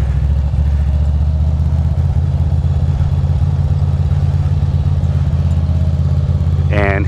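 A Yamaha MT-09 motorcycle idles close by with a steady low rumble through the whole stretch, a short higher rise near the end sounding like a quick rev.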